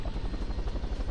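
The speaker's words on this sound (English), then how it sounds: "It's actually really hard to control a helicopter." A helicopter in the video game Totally Reliable Delivery Service whirs steadily with a fast, rhythmic rotor thump, loud and close, with no voices over it.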